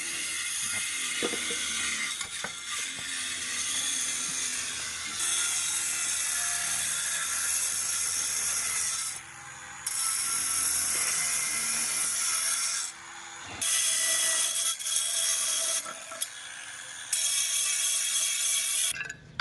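Power tool cutting a metal roof sheet during a solar panel installation, bursts of harsh rasping, scraping noise broken by short pauses, close and fairly loud with no speech.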